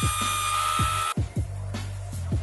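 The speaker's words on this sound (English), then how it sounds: "Now I'm going to run it through the thickness planer" A thickness planer gives a loud, steady machine roar with rhythmic thumping as wood feeds through, dipping briefly midway before resuming close by.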